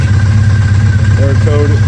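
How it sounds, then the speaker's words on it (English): A Triumph Bonneville T100 motorcycle engine idling steadily with a low, even rumble close by, while a voice speaks briefly over it. "as soon as we start the bike"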